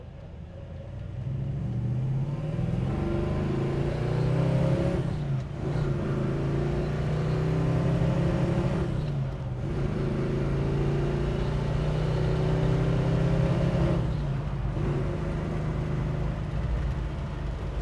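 A 1974 Plymouth Duster accelerates through its gears, its engine rumbling and climbing in pitch with three clear dips at the shifts, loud and close from inside the car.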